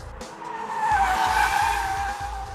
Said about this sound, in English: And that's the sound of wheels spinning around these corners.